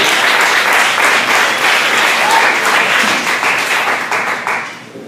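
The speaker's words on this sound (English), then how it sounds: "You guys give it up for Mr. Josh Giordano." Comedy club audience at The Geek Easy in Orlando applauding a comedian: dense, loud, sustained clapping with a few cheers, gradually thinning out toward the end.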